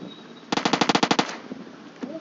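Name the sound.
gunfire from a gun in the video game PUBG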